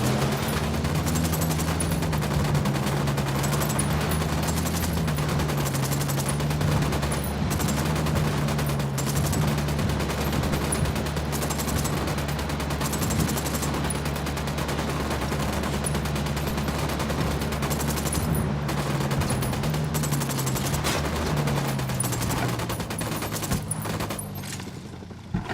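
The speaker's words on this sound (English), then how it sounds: "Opening fire." Sustained gunfire in the video game Ghost Recon Wildlands, a steady dense barrage of shots, loud and continuous over a low droning hum, with no voices on top.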